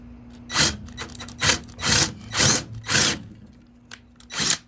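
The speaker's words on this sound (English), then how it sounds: "gonna countersink it a little bit." A 12 volt drill countersinks a hole in several short, close gritty bursts, about six quick grinding whirs spaced under a second apart, over a faint steady hum.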